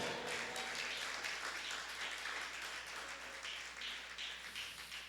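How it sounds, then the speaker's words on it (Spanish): Church congregation breaks into loud, continuous applause for the Lord during a Spanish-language sermon, a dense wash of many clapping hands filling the room without pause, no speech on top. "Démosle un fuerte aplauso al Señor."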